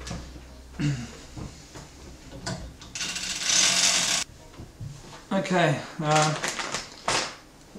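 A fishing reel winds line onto a balloon bobbin for LBG fishing, giving a rapid whirring, ratcheting burst in the middle of the clip, with someone talking before and after.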